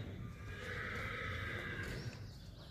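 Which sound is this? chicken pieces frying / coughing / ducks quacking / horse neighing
horse neighing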